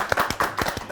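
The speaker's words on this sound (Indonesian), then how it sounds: "Tepuk tangan." Studio audience clapping hands on a TV set: a quick short burst of several sharp, fairly close claps, heard alone without talk.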